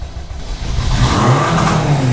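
Engine of a Honda Civic fitted with a swapped-in expensive engine, cranking and catching loudly up close, rising into a strong steady running rumble with a building whir, no talk over it.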